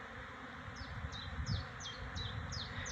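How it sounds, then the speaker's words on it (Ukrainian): Bees swarm around blossoming cherry plum on a fine spring day, making a dense, steady low hum. A bird's short descending chirps repeat above it at regular intervals. "шум від бджіл"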